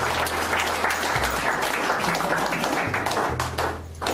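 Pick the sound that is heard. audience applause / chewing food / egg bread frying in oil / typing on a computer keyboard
audience applause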